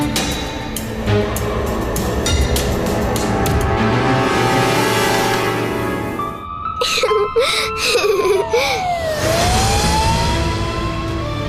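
A police car siren wails, sweeping up and down in pitch over loud background noise and traffic, rising and falling through the second half.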